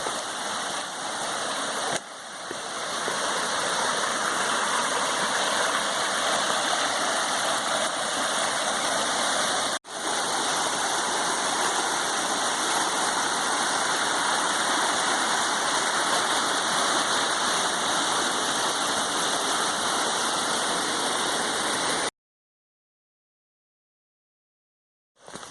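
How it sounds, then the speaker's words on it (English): The waterfall on the Pockwock River roars in a dense, steady rush of falling water, loud and unbroken, with a brief break near the start and silence at the very end. "So we're now back at the waterfalls on the other side."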